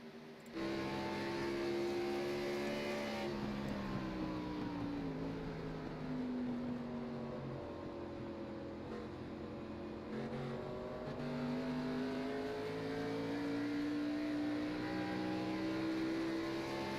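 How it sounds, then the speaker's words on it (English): Race cars on an oval at night climb back onto the throttle, their engines droning steadily with rising and falling pitch as they accelerate, heard from a distance as one continuous roar without talk. "Hear how long it takes for these drivers to get back to the throttle."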